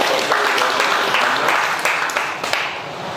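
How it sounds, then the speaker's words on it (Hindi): Rotary club audience at a Charter Day function clapping to mark the club's 27th anniversary, a dense, steady wash of applause lasting throughout with a few sharper claps standing out. "आप अपने लिए चाहे तो तालियां बजा सकते हैं"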